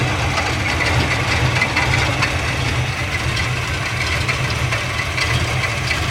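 A 1972 Dodge Dart engine idles with a little rattle, a loud, steady low rumble with a faint uneven clatter running through it, heard close and alone.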